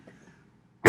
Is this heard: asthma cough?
yes